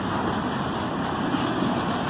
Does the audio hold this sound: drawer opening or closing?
no